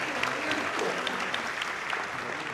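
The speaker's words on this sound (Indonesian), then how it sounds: "Kini saatnya baru kita akan sama-sama memberikan apresiasi tepuk tangan kepada seluruh calon presiden yang sudah menyampaikan visi misinya" Audience applause for presidential candidates at a televised debate, a steady dense clapping from a large crowd held at even strength throughout, with no talk over it.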